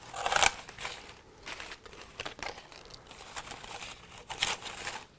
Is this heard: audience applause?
no